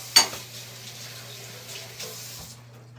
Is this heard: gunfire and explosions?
no